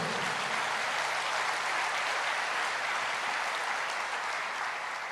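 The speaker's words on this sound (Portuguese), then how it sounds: "Pode aplaudir o Senhor." Steady applause from a church congregation praising the Lord during a sermon, a dense, even wash of clapping that holds at one level throughout.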